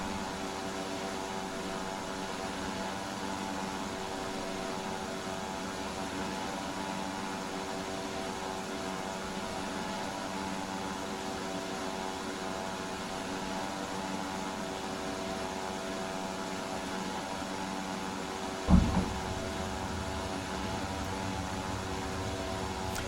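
Steady propeller-aircraft drone from a Beechcraft Model 99 in a flight simulator, a continuous even engine hum with a broad noise wash, broken by one brief thump near the end.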